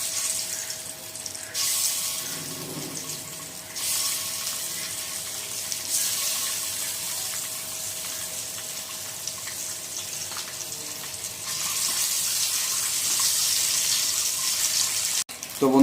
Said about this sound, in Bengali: আর তেল কিন্তু গরম হয়ে গেছে বন্ধুরা। আর এখন ডিমগুলো দিয়ে নেব।